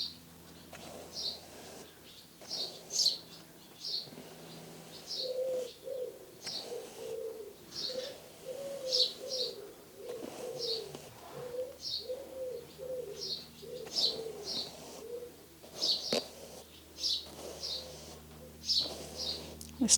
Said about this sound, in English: I love the sound of wood pigeons.